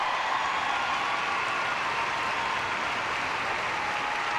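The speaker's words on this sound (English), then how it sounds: "they continue to be saluted in a standing ovation by this Canadian crowd" Canadian crowd at the 2006 World Figure Skating Championships ice dance finals in Calgary giving a standing ovation, dense sustained applause filling the arena at an even, loud level throughout.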